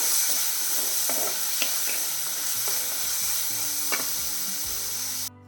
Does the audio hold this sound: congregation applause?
no